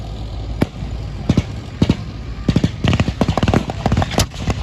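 Sharp booming gunfire from a heavy Russian-built gun in a WW2 tank battle reenactment, loud bangs at irregular intervals, some clustered in quick succession, with outdoor crowd and event noise between them.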